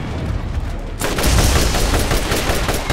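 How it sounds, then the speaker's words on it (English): Electric weapon gunfire from the video game Borderlands starts abruptly after a second of quieter game noise, then a dense, loud, continuous burst of rapid shots. "Oh, I'm shooting him in the butt with electric."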